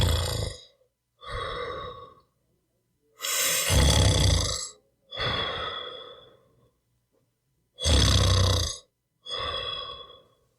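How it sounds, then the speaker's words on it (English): A person snores while asleep, six long rhythmic breaths alternating between loud, raspy inhales and softer exhales, with short silent gaps between them and no talking. "a segment on snoring"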